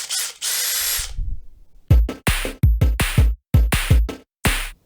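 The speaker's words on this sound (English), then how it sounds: "today we're gonna drill a hole in a board like this." A power drill drilling a hole in a board runs in one long burst, then in a series of short, loud pulses with brief pauses between, close up and alone.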